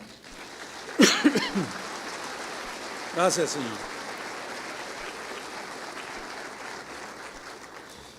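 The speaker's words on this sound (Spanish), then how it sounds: "Denle un aplauso al Señor" A church congregation applauds during a sermon, a steady wash of clapping that carries through the whole stretch while a voice speaks two brief phrases over it.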